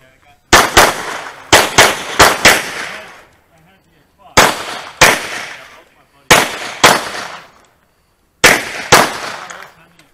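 Pistol gunshots from a shooter running a USPSA Carry Optics stage: loud, sharp reports in quick bursts, a rapid string of about seven shots, then shorter groups of two or three separated by brief pauses.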